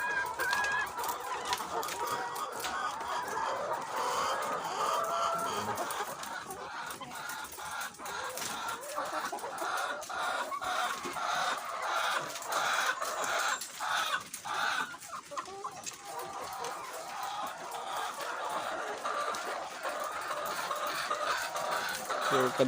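Dekalb White layer hens, about 22 weeks old, cluck and squawk continuously in a crowded poultry house, a dense, busy flock chorus with no talking.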